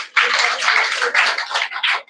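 A class audience gives a student a round of applause at an English-learning semifinal event: a dense, steady wash of many hands clapping together, fairly loud and close, lasting about two seconds with slight swells before fading.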